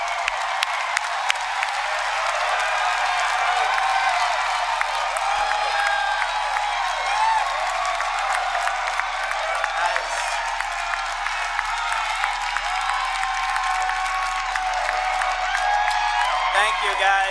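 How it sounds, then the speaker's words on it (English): A large audience applauds and cheers after a Star Wars: The Last Jedi trailer, dense sustained clapping with scattered whoops continuing evenly for many seconds. "I guess the crowd likes it."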